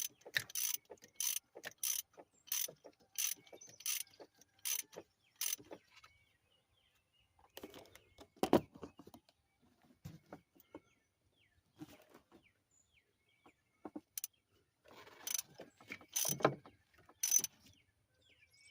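A ratchet clicks in steady bursts while tightening a spark plug on a Ford F-150 Triton engine, the sharp pawl ticks coming in a regular run, then in scattered, sparser strokes as the plug snugs down.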